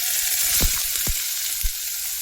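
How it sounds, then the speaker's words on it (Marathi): Mustard seeds, cumin and onion sizzle in hot oil, a continuous close hiss with a few sharp pops and crackles scattered through it. "बघा मोहरी पण तळतळत आहे आणि जिरा याच्यामध्ये हे कांदा"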